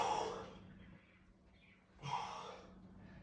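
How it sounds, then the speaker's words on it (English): A single exhaled breath pushed out during a core exercise contraction, audible as a soft close-up rush of air, then a short pause before a second breathy exhale. "You breathe out."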